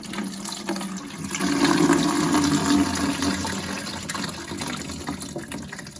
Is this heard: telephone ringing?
no